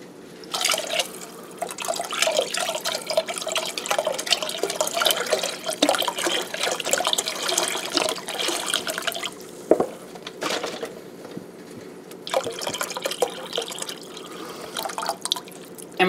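Beef broth for French onion soup pours into a pot with a soft, continuous splashing and gurgling, fairly quiet and close, with no talking.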